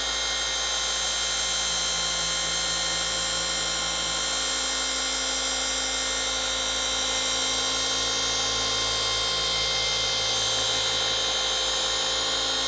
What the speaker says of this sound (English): Wool pads run cooler, so it's not quite as hard on the clear coat